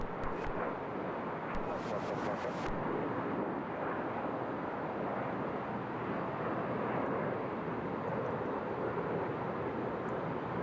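A British Airways airliner takes off at Seattle-Tacoma airport, a broad, steady jet roar heard from a distance and mixed with wind buffeting on the microphone.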